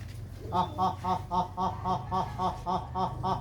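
Pigeons kept as pets in a loft, giving a steady series of rhythmic, throaty pulsing calls repeated about every third of a second, close and moderately loud over a low background rumble.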